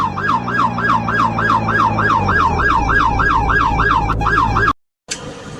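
A police car siren wails loud and close in a fast, regular warbling cycle with a low engine drone beneath, cutting off abruptly near the end.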